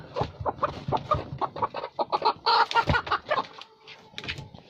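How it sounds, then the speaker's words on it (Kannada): Native country hens cluck repeatedly in short, uneven bursts, fairly close, with overlapping calls and brief pauses between them. "ಇವು ನಾಟಿ ಕೋಳಿ"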